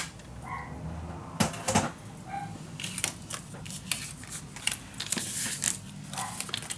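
Paper being cut with scissors while assembling a Halloween mini album from patterned gallery papers, heard as close, crisp snips and rustles, some louder cuts near the start and a steady papery shuffle throughout, with no talking.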